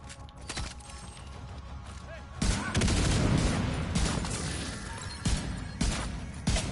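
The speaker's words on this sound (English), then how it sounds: "Let's throw another grenade." Cluster grenade blasts in The Division 2 on the PS4 Summit, a loud burst at mid-clip followed by a string of smaller crackling pops and gunfire-like bursts over continuous game noise.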